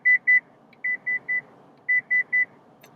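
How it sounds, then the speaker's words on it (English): A car's rear cross traffic alert chimes in clean, evenly spaced electronic beeps, coming in groups of two and three with short pauses between them, clear and alone. "the notification is about rear cross traffic alert"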